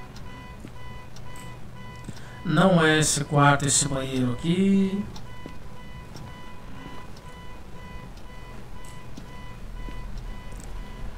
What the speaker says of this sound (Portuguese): Alarme do carro tocando.